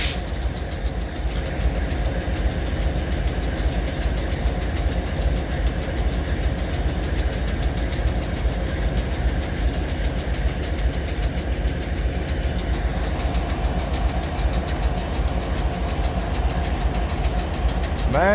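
A diesel locomotive engine idles near Abbeville, a loud, steady low rumble with a constant throb, and a brief high squeal near the end.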